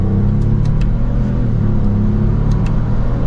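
A 2024 Lexus GX550 Overtrail accelerates from second gear in sport mode with paddle shifters, giving a steady, loud engine rumble and drone heard from inside the cabin, with a few faint clicks over it.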